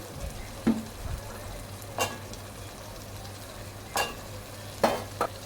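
Potatoes, beans and carrots frying in a pan for khichdi, stirred with a few sharp scraping strokes over a low steady sizzle, no voices.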